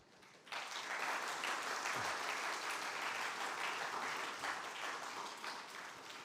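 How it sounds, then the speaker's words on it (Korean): A church congregation applauds during Sunday worship to greet the visiting city mayor and his wife, a full, even roll of clapping that starts abruptly and holds steady throughout, with no talk. "저희가 박수 한번 하도록 하겠습니다"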